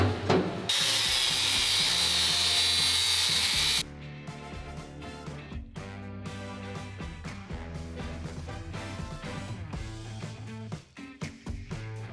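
Angle grinder working weld seams on a steel Knapheide 6x6 truck bed during a full rebuild; a loud, steady high-pitched grinding whine for the first few seconds, then rougher intermittent scraping and clattering strokes with no talking.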